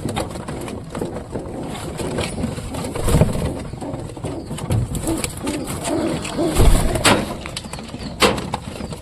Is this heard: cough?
no